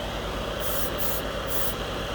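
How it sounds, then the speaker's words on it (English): An airbrush sprays thinned Revell enamel paint onto a scale model, giving a steady close hiss that swells in short pulses as the trigger is worked, with no talking. "You can put it on like a spray can practically."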